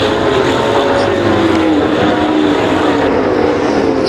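Sprint race cars at a Texas dirt-track A-Main in Waco roar steadily down the back straightaway, a loud continuous engine drone with a sustained pitch line and no pause.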